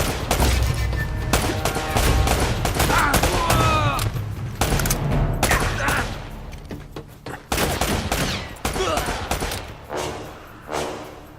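Gunfire in the video game Uncharted: Drake's Fortune comes as loud, rapid bursts and sustained volleys of shots, with brief pauses between clusters and occasional voices underneath.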